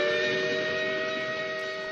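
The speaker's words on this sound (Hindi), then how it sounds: "सीटी बजा रही है।" Steady high whistle tone from an animated Hindi cartoon, several stacked pitches held loud and unbroken for two seconds, sounding like a train or steam whistle, with no talk over it.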